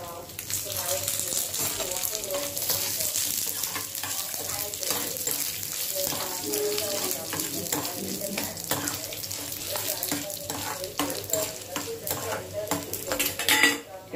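Green chillies frying in a pan for a rice-flour and red-gram fritter recipe with onion chutney: a dense, steady sizzle with irregular stirring clatter, close and loud throughout, with no voice.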